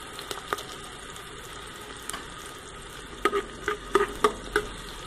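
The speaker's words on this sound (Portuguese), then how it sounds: "é horrível mexer uma panela com colherzinha desse tamanho" A small spoon stirs a pot of beef chuck cooking in a pressure cooker, scraping and clinking in a short burst early and then a cluster of sharper knocks near the end over a steady background hiss.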